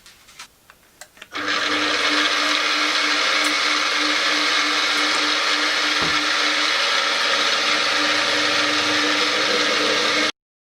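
A drill bores an 8.5 mm pilot hole in metal ahead of M10 tapping, a loud steady motor whine that starts after a few light clicks and runs unbroken for about nine seconds before cutting off.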